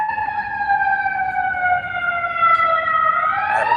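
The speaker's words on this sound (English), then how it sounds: "we got an ambulance passing by" A passing ambulance siren wails loud and near as a clear, sustained tone that slides slowly downward, then bends sharply upward at the end, with no talking over it.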